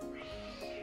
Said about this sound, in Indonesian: Buset, suara kucingnya.